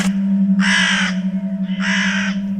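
A large bird perched on a house roof gives two loud, harsh caws close by, each lasting about half a second, over a steady low hum.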